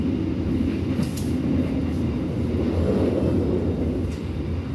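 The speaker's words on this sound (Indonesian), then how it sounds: "Ini sepertinya kereta BBM Ketel ini ya, Mawalo Tanker ya, dari Rawulu tujuan akhir Madiun" A fuel tanker freight train bound for Madiun rumbles past steadily, a continuous low rolling roar of wagons on rails heard from a nearby passenger train, with faint squeals above.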